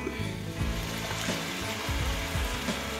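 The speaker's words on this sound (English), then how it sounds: "He's sauteing the ground beef." Ground beef sautés in a pan at home, a soft, continuous sizzle sitting under a low humming background, with a few faint scrapes and taps over three seconds.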